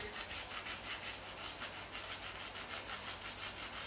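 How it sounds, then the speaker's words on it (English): Steady rhythmic rubbing of hand sanding curb rash on a 2019 Nissan Maxima SL wheel, a quick back-and-forth rasp repeating evenly, faint and close with no talking. "And I'm kind of sanding like down, away."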